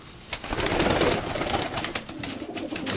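Pigeons kept by a fancier coo nearby in low, soft, rolling calls over a faint background, with occasional light rustling.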